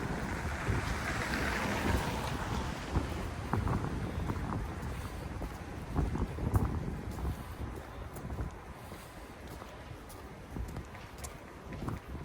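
Strong cold wind in snowy old-town Moscow, buffeting the microphone with a loud, rumbling, gusty roar that rises and falls throughout, with no voices.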